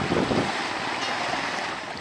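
Sea water and waves wash steadily, a continuous broadband surf hiss with wind-like rumble, fairly close and without voices.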